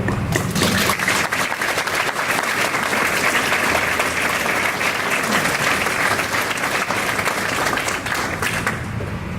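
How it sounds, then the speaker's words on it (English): A round of applause fills the room at an alumni recognition brunch, loud, dense clapping from the gathered guests that holds steady and starts to taper right at the end. "give yourself a round of applause because you're here for a reason too"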